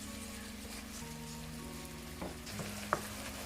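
Ackee and saltfish frying in a pan for a Jamaican dish, giving a steady, quiet crackling sizzle with a couple of brief utensil clinks near the end.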